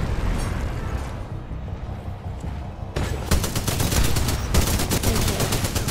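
Gunfire in Titanfall 2, a steady ambient game rumble that breaks into rapid automatic fire, loud, close and rhythmic bursts continuing to the end.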